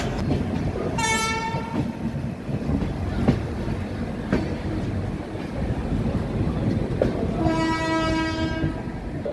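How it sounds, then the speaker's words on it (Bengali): Crowded passenger train departing for Digha, a steady rolling rumble of carriages with two long horn blasts, one early and one near the end, plus faint clicks of wheels on track joints. "এখন আমাদের ট্রেন ছেড়ে দিল দীঘার উদ্দেশ্যে।"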